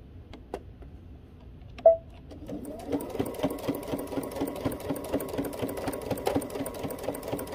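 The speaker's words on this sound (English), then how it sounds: "and we're going to do an edge stitch here." A sewing machine starts up after a quiet moment and a single click, then runs an edge stitch with a steady, close mechanical whir and fast ticking that continues to the end.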